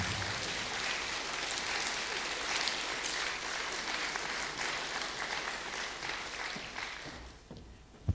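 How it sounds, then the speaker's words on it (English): Audience applause thanking a woman presented with a memento at an official opening event, a steady dense wash of clapping lasting about seven seconds before thinning out and ending. "please join in the applause to thank her as I give it to her"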